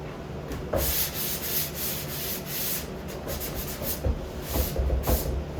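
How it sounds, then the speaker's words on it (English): Hand sanding on a wooden pantry door between finish coats, a steady series of rasping back-and-forth strokes, close and fairly quiet, with no voices. "just that little bit of sanding from one side to the other"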